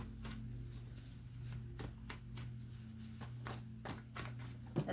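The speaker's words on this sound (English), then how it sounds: "Shuffling for Libra." Tarot cards being shuffled by hand, a run of soft crisp riffles and slaps at close range over a steady low hum, quiet and without talk.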